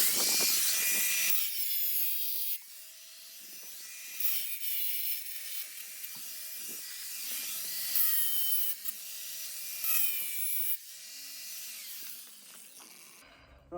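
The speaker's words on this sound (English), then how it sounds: "there is a bit of a burr on there, so I'm going to get that off first with a little grinder" A small grinder works a burr off the edge of a porcelain tile for a dry-stack feature wall, giving a high, gritty whine in repeated short passes over a steady hum, close and fairly quiet.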